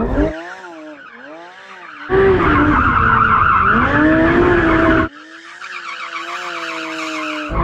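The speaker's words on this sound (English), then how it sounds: "I'll warm my tyres up." VW 1303 spinning its tyres to warm them up: loud screeching squeal with rising and falling engine whine, a burst of louder, harsher tyre scrub in the middle, then a steadier revving tone.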